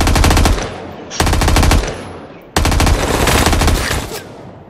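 Rapid bursts of automatic gunfire in the video game Badlanders, loud and sustained, in three long strings with brief breaks between them.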